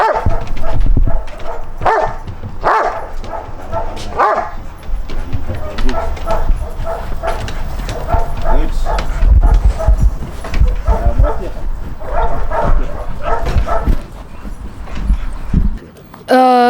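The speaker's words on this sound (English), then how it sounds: "Prince is a 8-month-old Rottweiler puppy" An 8-month-old Rottweiler puppy barks loudly and repeatedly in close, sharp bursts, with footsteps and people talking around it at a dog training academy in Kenya.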